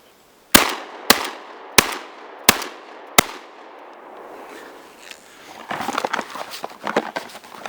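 Rapid fire from a Dominion Arms Cougar, a Remington 1100 clone shotgun: five sharp, evenly spaced reports about half a second apart, followed by softer clatter and handling noise.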